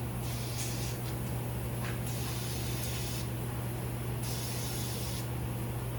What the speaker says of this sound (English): Spray down a couple other things.